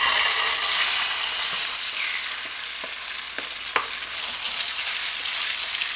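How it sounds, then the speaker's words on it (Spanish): Chicken breast meat frying in vegetable oil, a steady close sizzle filling the whole stretch, broken by several soft clicks and taps of a utensil as the pieces are stirred. "Lo vamos a sofreír"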